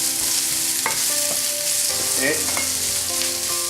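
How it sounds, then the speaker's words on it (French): Thinly sliced half onion hitting a hot pan with garlic and ginger, a steady loud sizzle with occasional stirring scrapes and clinks; a voice briefly speaks over it. "on va y mettre l'oignon. Donc, notre demi-oignon émincé"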